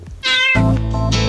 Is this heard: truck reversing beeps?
no